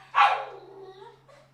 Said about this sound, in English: My dog's freaking out.